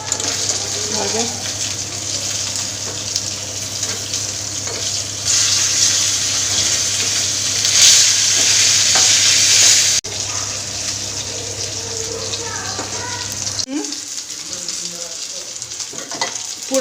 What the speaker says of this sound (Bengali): তো দেখো আমার মাছগুলো ভাজা হয়ে আসলো